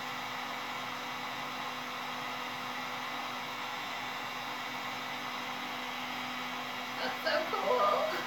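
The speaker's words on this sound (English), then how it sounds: "let's heat up this side and do that because that makes a huge difference" A heat gun blows steadily to heat foam for a cosplay Nightwing mask, a constant loud airy whoosh with a faint hum throughout, and brief voices and handling noise near the end.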